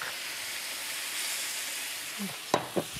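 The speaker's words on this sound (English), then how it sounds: "We give that a little bit of a stir, Lorraine." A lamb and spice sauce with tinned tomatoes and stock simmers and hisses steadily in a pan, with a few sharp spoon scrapes and knocks near the end.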